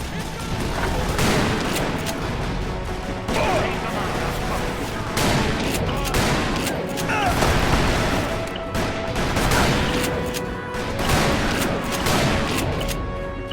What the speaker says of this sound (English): Another damn Gatling gun!